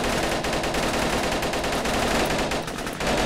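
Rapid, loud automatic gunfire from the top-down tactical shooter game Operation Valor, a dense unbroken burst of shots with no talking.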